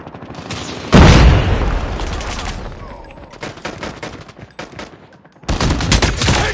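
Grenade blast and bursts of automatic gunfire in Call of Duty Mobile, a loud boom at the start, then rapid rattling fire that fades and returns in a dense burst near the end.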